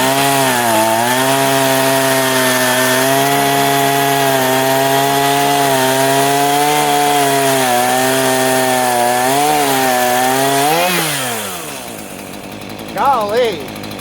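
A Vevor 58cc gas chainsaw with a slightly dull chain cuts through wood at a steady, loud, high-pitched whine for about eleven seconds, then drops in pitch as the cut finishes and settles to a quieter idle with a couple of brief revs.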